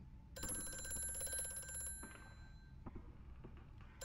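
An old telephone bell rings in the horror game Amnesia: A Machine for Pigs, one bright metallic ring that stops abruptly, followed by faint knocks and low ambient rumble.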